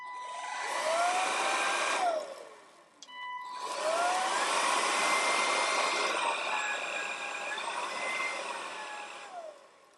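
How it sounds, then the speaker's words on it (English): An Ultenic U10 Ultra stick vacuum runs on its high setting, a loud steady whine with a short dip around two seconds before spinning back up and holding, no talking over it. "I generally like to vacuum on high."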